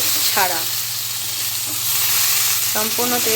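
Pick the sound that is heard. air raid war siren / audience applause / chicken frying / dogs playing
chicken frying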